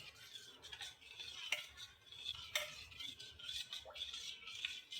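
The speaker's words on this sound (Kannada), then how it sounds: "ಇದಕ್ಕೆ ನಾವು ಹಾಲು ಮಿಕ್ಸ್ ಮಾಡ್ಕೊಳೋಣ." A spoon stirs milk into ragi malt sweetened with jaggery, making soft repeated clinks and scrapes against the cup. A few sharper taps stand out over a quiet background.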